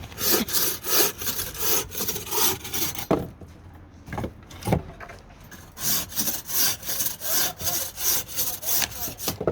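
A hand saw cuts through firewood in steady back-and-forth strokes, close and rasping, with a brief pause midway before the rhythmic sawing resumes, in Sweden.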